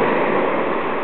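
Ocean waves wash over a spit at a December winter high tide, a steady loud rushing hiss of surf and running water with no voices, muffled in the highest range.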